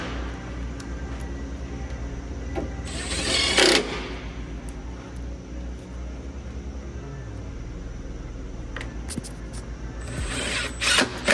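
Power tool driving bolts while headlights are fastened on a 2018-2024 Toyota Camry, giving short bursts of high whirring at intervals amid faint workshop background noise.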